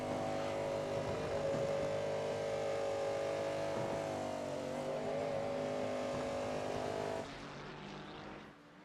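A GTP race car engine roars steadily at high revs in a racing video game at Daytona, holding a sustained tone before dropping off and fading near the end.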